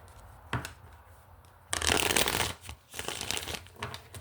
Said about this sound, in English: let's do a few shuffles here and get to it